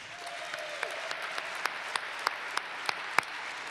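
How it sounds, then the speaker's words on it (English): Audience applause at the 2019 Mirror Awards ceremony: steady, dense clapping from a crowd, moderately distant, with a few sharper individual claps standing out above the wash, no voices. "Please give a round of applause for our Master of Ceremonies, Allison Camerata."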